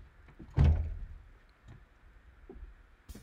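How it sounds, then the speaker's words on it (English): A door is opened to step outside, giving one distinct thunk and rattle near the start, followed by quieter handling noises and faint room sounds, with no speech. "Open this door."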